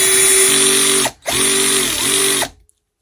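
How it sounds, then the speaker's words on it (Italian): TOPSHAK 20V cordless screwdriver driving a screw with a very delicate clutch: a close, loud motor whine runs for about a second, stops briefly, then resumes before cutting off abruptly. "Guardate come avvita questa vite senza arrivare fino in fondo."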